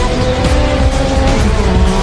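Luxury motorbike from an action film revving and speeding away, a loud sustained engine roar with rising pitch sweeps, close and continuous with no talk.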